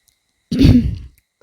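A single short, close throat clear, a gruff rasp lasting about half a second, alone in otherwise quiet surroundings.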